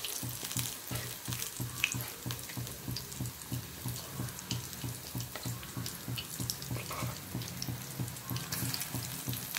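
Cauliflower bajji pieces frying in hot oil, a dense, continuous bubbling hiss with rapid pulsing crackle, steady and close, no voices.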